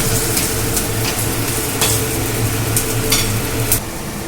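Vegetable, egg and semolina fritters fry in a pan while being pressed down, producing a loud continuous sizzle with scattered crisp pops and a low steady bubbling undertone.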